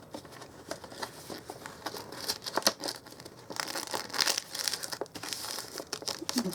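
Sheet of paper rolled up tightly and folded back on itself to form a small craft mail bag, giving close, steady crinkling and crumpling with a few sharper rustles, no voices.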